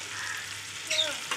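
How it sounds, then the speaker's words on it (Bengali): Marinated chicken pieces with ginger, garlic, tomato, green and dried chillies and whole garam masala sizzle steadily in a pan, a continuous frying hiss with a brief louder burst of stirring near the end. "আমার চিকেনটা কষাচ্ছি ভালো করে"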